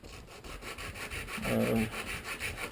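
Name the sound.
sanding a brake pad with fine emery cloth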